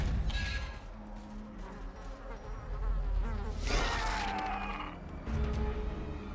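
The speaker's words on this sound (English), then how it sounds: "please don't plunge your arm into stinging insect hives" An angry buzz of stinging insects from a hive in the video game Darkest Dungeon, a close droning hum under other game effects, with no talking.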